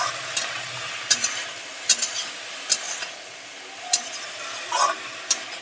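Greens cooked with chickpeas are stirred in a pan, with a steady soft sizzle and irregular sharp scrapes and clicks of the spoon, no talking.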